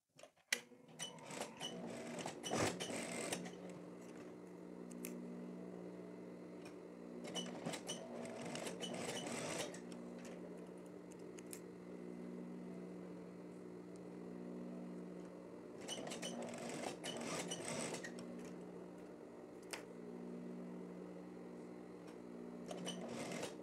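Sewing machine stitching the side seams of a women's plaid shirt, several whirring runs of rapid stitching separated by quieter pauses, close and alone.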